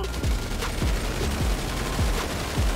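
Video game gunfire in GTA role-play: dense, continuous rapid shots from several guns at once, loud and close, with repeated heavy low booms under the clatter.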